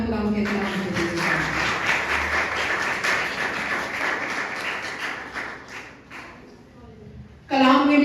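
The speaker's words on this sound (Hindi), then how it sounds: "आए जोरदार तालियां खुदा के नाम के लिए।" A church congregation breaks into applause during a sermon, a dense round of clapping that tapers off before a voice resumes speaking at the end.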